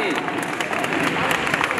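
A live audience claps in a brief burst at a K-pop stage show at the 2021 Global Entertainment Expo, with crowd chatter mixed in.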